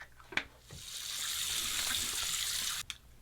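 Water runs from a sink tap for a few seconds, a steady close hiss with a couple of small knocks at the start and end, as shave cream is rinsed off.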